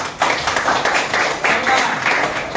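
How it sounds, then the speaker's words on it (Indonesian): A classroom of students claps together in a lively, steady burst, the sound dense and close with a few rhythmic pulses running through it. "tepuk tangan untuk kita"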